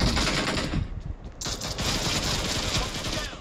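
Dense gunfire from the mobile battle royale game BGMI, loud rattling bursts that fill the whole stretch with a short lull partway through before the shooting picks up again.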